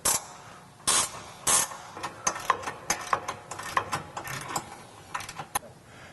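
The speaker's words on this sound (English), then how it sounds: "remove the side braces here using a 15mm wrench on the upper bolts and an 18mm here" Wrench loosening the upper 15mm and 18mm bolts of the side braces on a Jeep Gladiator JT rear bumper, irregular close metallic clicks, ratcheting and clanks, heard without talk.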